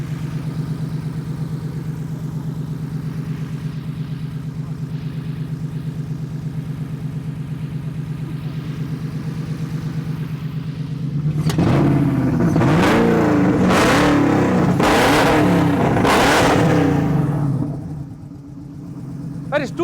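A car engine idles with a steady low hum for about eleven seconds, then revs hard in several loud surging bursts before dropping off near the end.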